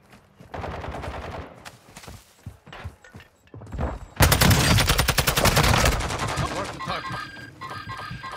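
Gunfire in Call of Duty Warzone DMZ, with scattered shots and then a loud, dense burst of rapid automatic fire that tapers into lighter shots, while a voice talks briefly over the action.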